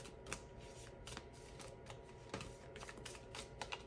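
Tarot cards are shuffled and drawn from a deck, close and soft, with quick riffling flutters and a few sharper snaps.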